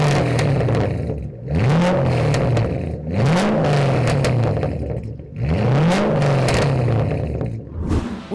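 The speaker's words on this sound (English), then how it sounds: "adding Flowmaster's Outlaw series axle back here has definitely given this thing a tone worthy of one of the baddest Mustangs of all time" A Shelby GT500 fitted with a Flowmaster Outlaw straight-through axle-back exhaust revs repeatedly, loud and close, with three rising engine sweeps that drop back to a rumbling idle between blips.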